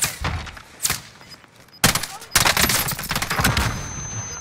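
Gunfire in a battle royale video game: bursts of rapid automatic shots and single cracks, loud and close, separated by short pauses, with players talking between bursts.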